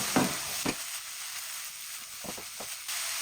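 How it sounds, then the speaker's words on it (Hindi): Chicken and vegetables frying in a pan, a steady bright sizzle with a few scraping stirs at the start and near the end, close and moderately quiet. "तकरीबन 2 से 3 मिनट इनकी भुनाई करेंगे। अब मैं इसके अंदर चिकन ऐड कर दूँगी।"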